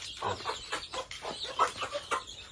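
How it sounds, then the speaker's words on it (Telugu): A desi country chicken clucking in a clean indoor coop, a series of short, close, soft clucks in an uneven rhythm with no talking. "ఇక్కడ ఒక కోడి ఉన్నది, ఇవి ఉంటాయి."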